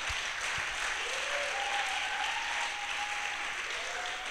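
Sustained applause from a church congregation in Brazzaville, steady and dense throughout, with a few faint tonal sounds drifting above the clapping.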